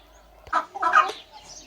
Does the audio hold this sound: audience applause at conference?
no